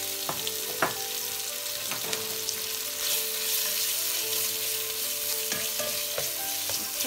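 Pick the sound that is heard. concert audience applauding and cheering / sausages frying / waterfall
sausages frying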